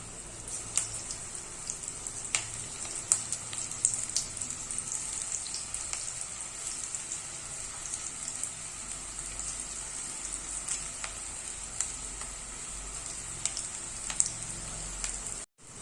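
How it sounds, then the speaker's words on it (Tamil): Spinach (palak) pakoda deep frying in hot oil, a steady, faint sizzle with scattered small pops throughout and no talk. "எண்ணெய் நல்லா சூடாயிடுச்சு பாருங்க பக்கடாவை போட்டு பொரிச்சிடலாம்"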